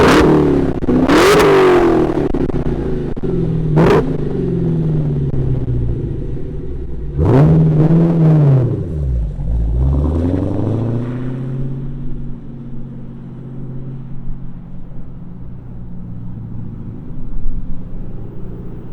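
Manual 2023 Dodge Challenger Hellcat V8 cranks and fires up, then blips through several sharp loud revs that fall back to a deep rumbling idle, which settles and continues alone.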